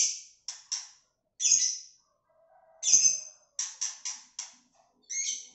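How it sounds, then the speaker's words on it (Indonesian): A white-rumped shama, the Medan type of murai batu kept as a caged songbird, sings a string of short, bright whistled phrases with brief gaps between them, close and clear with no talking. "Selama saya rawat burung ini rajin bunyi gacor."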